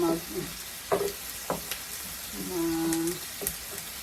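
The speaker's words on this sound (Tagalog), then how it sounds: "Vegetable oil, mga 1 tablespoon para maigisa ko. Igisa natin ito hanggang sa" Vegetable oil sizzles softly in a pan as pancit sotanghon ingredients are sautéed, with a few stirring scrapes and clicks over a low, steady hiss.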